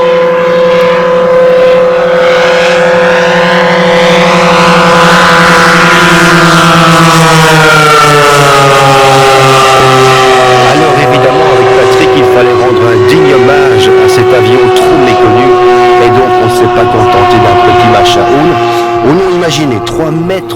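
Twin 55 cc engines power a 3.5 m wingspan Fokker D.XXIII model aircraft, one mounted in front and one behind, giving a loud, sustained drone whose pitch rises and shifts as it flies, with someone talking over it throughout.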